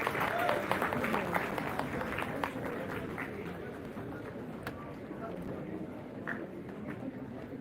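Audience applause welcoming the chief guest at a college National Mathematics Day event, a steady wash of clapping from a crowd that stays fairly even across several seconds, with murmured voices mixed in.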